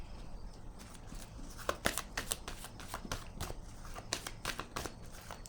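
Playing cards are handled during a card game, producing a run of quick close riffling and snapping flicks, irregular and crisp against a quiet background, with no one speaking.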